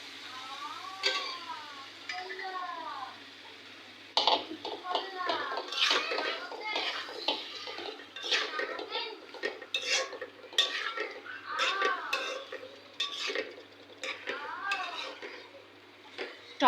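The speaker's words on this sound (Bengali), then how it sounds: "সেই বোয়াল মাছ এখন রান্না করা হচ্ছে।" Boal fish cooking in a pan with tomato in a home kitchen, soft clinks and scrapes of a spoon stirring against the pan under someone talking, with faint voices of children nearby.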